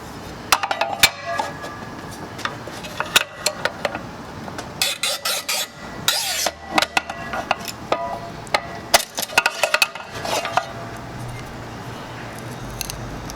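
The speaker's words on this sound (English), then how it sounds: "Let's cut some glass." A tile cutter rip-cutting a long piece of glass lengthwise, with sharp scraping, clinking and snapping bursts in irregular clusters, close and moderately loud, with quiet pauses between strokes.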